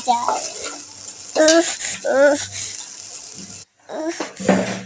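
Spice masala sautéing in a pan for a home-cooked lunch with potatoes and fish, a soft continuous sizzle with occasional stirring scrapes and clinks, heard under someone talking intermittently.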